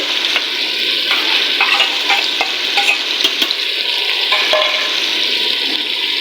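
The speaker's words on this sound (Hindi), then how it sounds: "अच्छे से ये मसाला भून लेंगे।" A constant crackling sizzle of spice paste with red chili, turmeric and salt frying in a pan for dal mash, with occasional scrapes and taps of stirring over the steady hiss.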